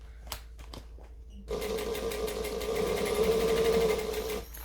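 A sewing machine stitches around a bag thick with layered tassels, starting after a few soft clicks and running as a steady, close hum for about three seconds before stopping.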